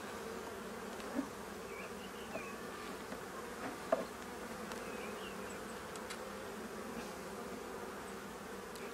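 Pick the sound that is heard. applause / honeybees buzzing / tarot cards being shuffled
honeybees buzzing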